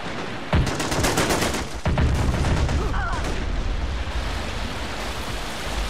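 Gunfire in the war strategy video game Strateejik Battles: dense, continuous battle noise with overlapping bursts and two heavier blasts near the start, dense and loud throughout.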